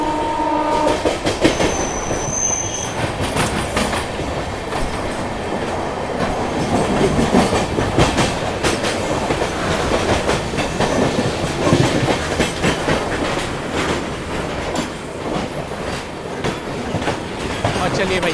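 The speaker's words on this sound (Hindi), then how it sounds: "हमारी ट्रेन गुड शेड को ओवरटेक कर रही है" A passenger train of LHB coaches on the Raipur–Nagpur main line from Bilaspur toward Tirupati rolls steadily with constant wheel roar and rhythmic clickety-clack, heard loud and close from on board, with a brief horn-like tone early on.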